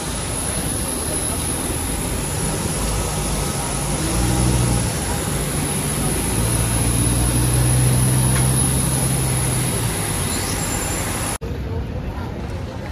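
Jet airliner engines whining after landing in Mumbai, a steady loud drone with a high tone while passengers talk nearby.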